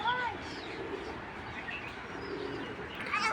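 Imported racing pigeons coo softly in a loft amid steady ambient noise, with a few brief chirps near the beginning and end and some faint background voices.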